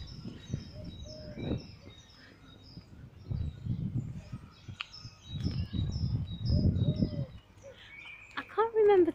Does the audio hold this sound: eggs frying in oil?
no